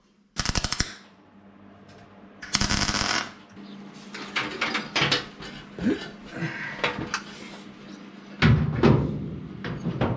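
Tack welding on metal fender skirts for a 1951 Chevrolet Fleetline, heard as sharp crackling bursts in short spurts, separated by shop clatter and handling noises, fairly close and loud.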